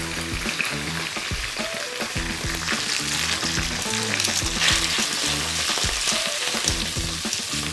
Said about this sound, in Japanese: さーっと炒めていきますよ。